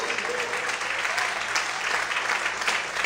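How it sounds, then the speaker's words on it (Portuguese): A church congregation applauds the Lord loudly after a sermon, dense continuous clapping from many people filling the room. "aplauda o Senhor bem forte"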